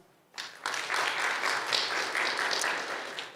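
Audience at a panel discussion breaking into sustained applause, many hands clapping together steadily and fairly loud after a short quiet start.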